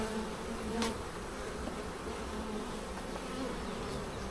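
Honey bees hum steadily around an open, heavily populated hive during an inspection, a continuous near buzz with individual insects briefly louder as they pass close.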